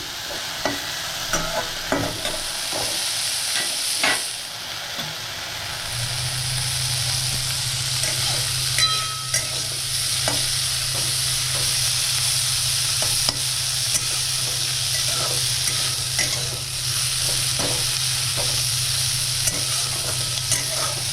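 Prawns frying lightly in hot oil, a steady close sizzle with frequent stirring scrapes and clinks for most of the stretch, plus a low continuous hum from a kitchen appliance joining partway through.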